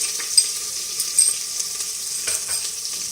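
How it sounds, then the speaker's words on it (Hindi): Ginger and garlic hit browned onions frying in oil for beef nihari, a bright close sizzle with a few soft stirring knocks. "अदरक लहसुन डाल देंगे इसमें।"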